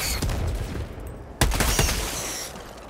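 A sentry turret fires in Helldivers 2, with a rapid burst of automatic gunfire, then a sharp loud blast followed by more dense rattling shots that fade near the end.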